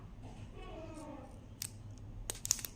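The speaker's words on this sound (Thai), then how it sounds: "นำกรรไกรมาวางตัดแนบชิดมุมได้เลยค่ะ" Scissors snipping through a folded banknote being shaped into an alms coin ornament, a few short crisp cuts close by near the end, with a faint voice murmuring earlier.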